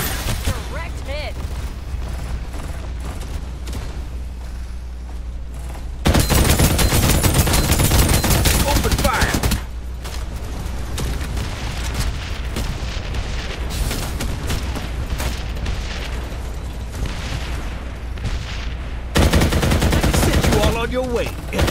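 Shooter video game gunfire with sustained dense bursts, loud and continuous, surging even louder in two stretches, with faint game voice callouts mixed underneath.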